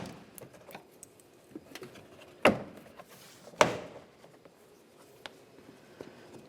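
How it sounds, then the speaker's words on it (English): A plastic trim tool pries the interior door panel of a 2009-2010 Pontiac Vibe rear door, giving two sharp, close cracks as push clips pop free, with faint handling clicks and taps between them. "carefully try prying this without breaking the door panel"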